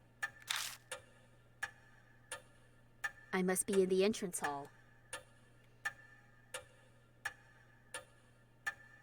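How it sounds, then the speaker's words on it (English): Clock second hand ticking in the horror video game FAITH: The Unholy Trinity, faint sharp ticks at a steady one-per-second rhythm over a low hum, continuing under a brief line of speech. "It's dead silent, except for the constant ticking of a clock's second hand."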